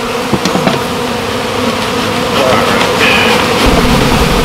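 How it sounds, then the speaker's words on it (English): Drone honeybees make a dense, continuous buzz that fills the air steadily for several seconds, loud and close, with a low rumble underneath. "a lot of what Gianna was hearing was drones buzzing around"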